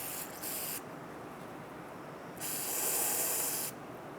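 Short hissing bursts of spray cleaner aimed at the oil drain plug area under a 2010-2022 Toyota 4Runner, two separate sprays, the second longer, close and fairly quiet with no talking.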